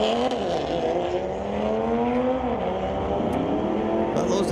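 Audi drag racing cars accelerate hard down the strip at a street-legal Friday night drag event at Mission Raceway Park, a loud, sustained engine roar with rising and falling pitch as they shift, with faint voices in the background.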